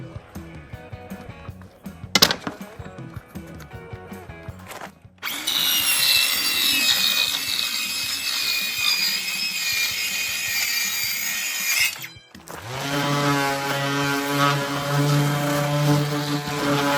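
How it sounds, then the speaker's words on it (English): A circular saw cutting wood for a built-in bookcase with arches, loud and close, with its whining motor running in two long passes after some quieter handling noise and a sharp knock. "After I do a cut with the circular saw,"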